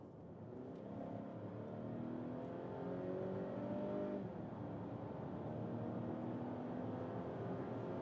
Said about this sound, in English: So now, first of all, acceleration, we go from 50 to 110, here with the B5 mild hybrid engine.